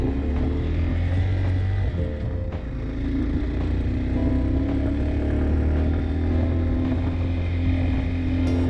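A Zongshen Chinese motorbike rides along a road with a steady, droning engine hum and constant low rumble, held at a fairly even level with a slight dip and recovery partway through, and no talk.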